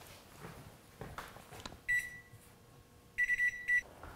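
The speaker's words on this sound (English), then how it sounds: "let's put our oven on at 200 degrees" A kitchen oven being set to 200 degrees sounds a short series of bright electronic control-panel beeps, one near the start and a quicker cluster of three toward the end, over faint room noise.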